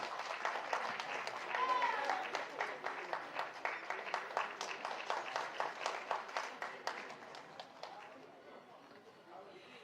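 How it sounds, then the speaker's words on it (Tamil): Audience applause greets a guest walking onto the stage at a Tamil film audio and trailer launch, a steady wash of many hands clapping that swells early and then thins to scattered claps. "ஒரு பெரிய கைத்தட்டலோட சார வரவேற்கலாம்."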